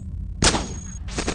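A shock rifle fires twice in the Cogmind game, two sharp, loud, bright blasts about a second apart, the first with a short ringing tail, over a low background hum.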